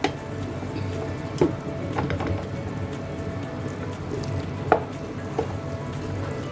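Chicken strips frying in a pan, a low, steady crackle with scattered louder pops and taps at intervals, fairly close and heard with no talking.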